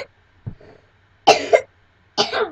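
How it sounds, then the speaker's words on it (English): Three short, harsh coughs from one person nearby: a small one, then a louder double cough, then another burst after a pause. "he's gonna be coughing throughout the video"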